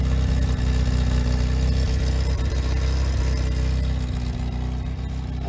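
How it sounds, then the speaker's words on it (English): Classic Fiat engine idling with an exhaust leak, a loud, close, steady low rumble with a faint irregular puffing texture and no talk. "as you still possibly hear, the Italian 90 still has that exhaust leak from down here."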